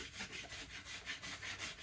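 A rasp works a yew wood bow, making short, raspy back-and-forth scraping strokes in a steady rhythm, close up and fairly quiet, with no voices.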